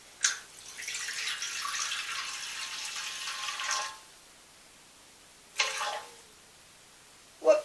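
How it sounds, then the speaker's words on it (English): Water is poured into a container set on a kitchen scale: a steady splashing stream lasts several seconds, then stops, followed by two short bursts of pouring, close and fairly quiet with no talk. "I need 260 grams of water."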